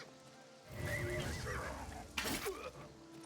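A horse in the video game Oblivion Remastered whinnies loudly while under attack, with a second sharp neigh and scuffling hoof sounds following shortly after.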